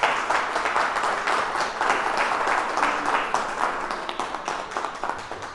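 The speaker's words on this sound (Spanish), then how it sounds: "Un aplauso para el doctor." Audience at a veterinary fluid therapy talk applauding a doctor, a dense, sustained wash of many hands clapping, steady and fairly loud throughout with no speech.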